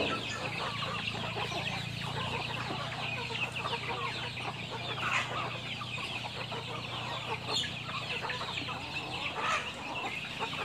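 A flock of native Thai village chickens clucks steadily and densely throughout, with overlapping calls close by and no voices.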